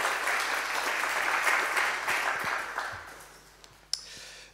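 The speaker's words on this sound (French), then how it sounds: "je propose d'applaudir à nouveau" A large audience applauds steadily at a lecture session, a dense even wash of clapping that slowly thins and fades toward the end, with one sharp knock near the close.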